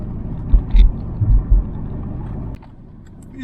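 A vehicle rolls along an unpaved dirt road through the Brazilian countryside, giving a steady low rumble with several heavy bumps and thumps early on before the noise drops and settles.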